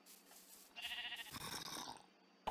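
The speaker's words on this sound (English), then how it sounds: "Oh, hey, there's more sheep." A sheep bleats in Minecraft in a taiga biome, a single wavering cry of about a second, fairly close and alone over faint game ambience.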